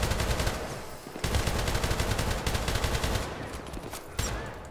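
Gunfire in the video game Syndicate, loud and continuous automatic bursts filling nearly the whole stretch, broken by two brief gaps and trailing off at the end.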